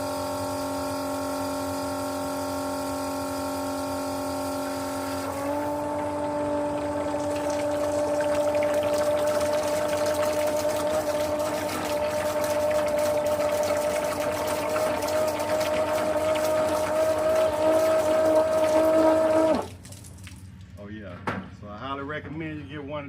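A DeWalt 20V transfer pump runs steadily as it moves water, a loud, even motor hum that rises in pitch after a few seconds and cuts off abruptly near the end, with water sloshing after.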